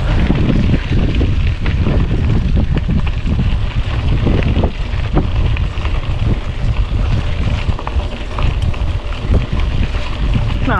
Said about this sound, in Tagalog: Salubong ang hangin, ah.